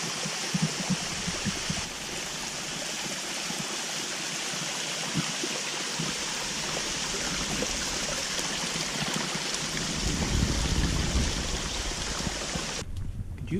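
Small mountain waterfall at Hen Wallow Falls in the Smoky Mountains in autumn, a steady broadband rush of falling water that continues unbroken and close, swelling slightly toward the end.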